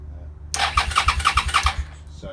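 A Suzuki SV650 motorcycle starter motor cranks the engine in a steady rhythmic churn of repeated pulses, close and fairly loud, lasting about two seconds before stopping.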